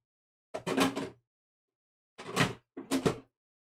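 A drawer slides open and then shut twice in a quiet room: three short, close scraping bursts with silence between them and no voices.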